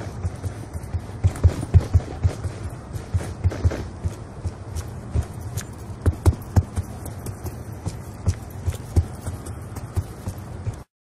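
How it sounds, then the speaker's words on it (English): Video game character footsteps in Black Ops 2, heard both without and with the Awareness perk, which makes the steps sound more distinctive and higher pitched; a steady run of soft thuds repeats over a constant low ambient hum. "awareness doesn't necessarily increase the volume of the footsteps, instead it changes the tone to a much more distinctive and higher pitched tone"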